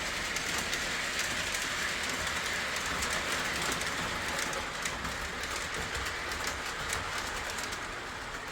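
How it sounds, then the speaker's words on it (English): Williams FP45 model train locomotive rolls steadily along its track with a continuous, even whirring and a light rhythmic clatter, filling the whole stretch at a close, constant level with no voices. "Very, very good running locomotive that Williams is right there."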